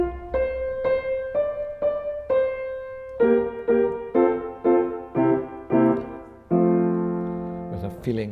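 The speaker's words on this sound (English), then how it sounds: "If, however, you play it the correct way with the root position at the end, it sounds like this." A chord progression, likely on piano, closing on a root position chord: a series of sustained chords struck one after another, ending in a longer held final chord that rings out alone.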